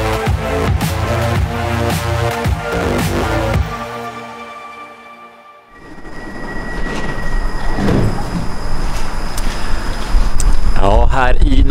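A red line Stockholm metro train at Norsborg station rumbles and screeches with loud, layered wheel and motor tones, briefly drops away, then returns with grinding, squealing rolling noise; a voice talks over it at times.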